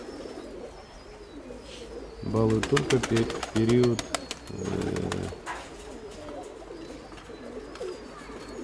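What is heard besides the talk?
domestic pigeons cooing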